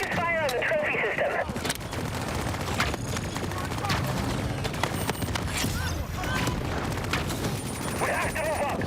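Heavy gunfire and booming explosions in a video game demo shown at Sony's E3 2015 press conference, dense and continuous at moderate loudness, with voices and radio-style chatter over the battle.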